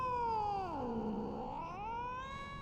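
Cat-like meowing cry from Final Fantasy XIV, a single drawn-out wavering call that dips in pitch then rises again, loud and alone with no talk.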